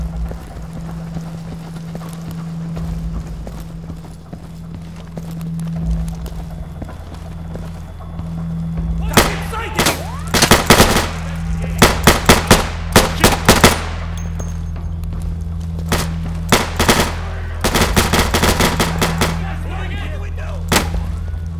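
Rapid automatic gunfire in the video game Insurgency, loud bursts and single shots crackling in quick clusters over a steady low engine-like hum, with faint voices in the background.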